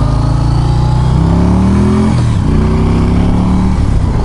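A motorcycle engine runs loud and close, its pitch climbing through a rev, dipping briefly, then holding a steady drone with no talk.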